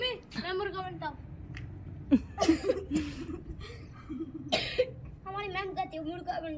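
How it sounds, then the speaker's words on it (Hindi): A person coughs and clears the throat several times in short bursts, close by, mixed with a child's chatter and giggling in a home setting. "खांसी आ गई"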